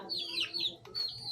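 Nearby chickens cluck and squawk in short, rising bursts outdoors, a couple of brief calls in quick succession.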